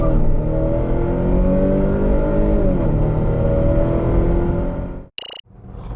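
A 2021 Volvo S90 B5 accelerates hard in an acceleration test, its engine roaring loud and steady with rising harmonics and a gear change partway through, then cutting briefly to near silence near the end.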